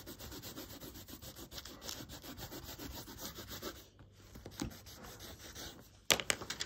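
Tan colored pencil or crayon is rubbed over a drawing to blend the color, making soft, quiet, rapid back-and-forth scratchy strokes close by, with a brief louder scrape near the end.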